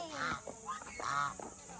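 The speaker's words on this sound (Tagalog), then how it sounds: "Duck." A duck quacks a few times in short, nasal bursts at a zoo park, fairly close and clear with faint background noise.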